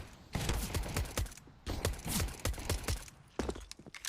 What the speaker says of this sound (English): shots getting exchanged here